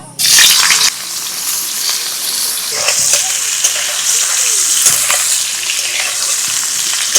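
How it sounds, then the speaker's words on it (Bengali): Cauliflower pieces fry in hot oil for paneer-and-cauliflower roast, a loud, continuous close sizzle with a bright burst at the start and occasional crackles and stirring clinks throughout. "ওই তেলের মধ্যে এবার ফুলকপি ভেজে নেব"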